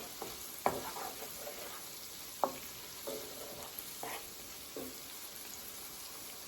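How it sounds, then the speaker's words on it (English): Vegetables sautéing in a pan for Hoppin' John, a soft steady sizzle broken by several sharp scrapes and clinks of a utensil stirring, fairly quiet and with no talking. "Just saute until tender."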